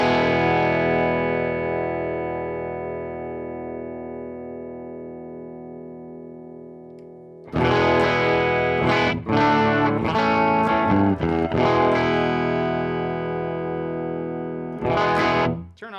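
A Gretsch guitar with Supertron pickups, reverb switched off, rings out a long sustained chord that slowly decays, then is strummed again in several chords, with a driven, slightly distorted tone.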